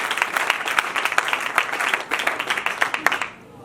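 Dense, lively applause from a crowd, many hands clapping steadily for about three seconds before it abruptly stops.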